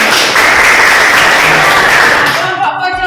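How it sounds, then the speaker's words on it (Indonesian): A high school classroom bursts into loud, close applause from students, brisk clapping that holds steady and then tapers off abruptly, with voices rising as it ends. "Tepuk tangan dulu."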